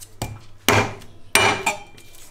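Garlic is prepared on a cutting board while green asparagus fries nearby: two sharp knife or press thumps on the board, then lighter taps and scrapes, close and alone without talk.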